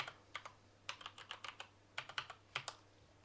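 Quick bursts of key presses on a computer keyboard as a password is typed, irregular clusters of crisp clicks with short pauses, close and fairly quiet over a low steady hum.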